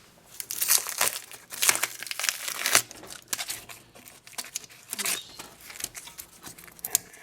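Duct tape being torn and peeled off a Ford Model A, heard as repeated close, crackling rips and crinkles in uneven bursts, with no talking.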